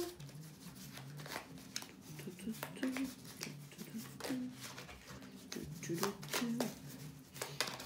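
Tarot cards being shuffled by hand, soft papery riffles and flicks in quick repeated bursts, close, running under someone speaking French throughout.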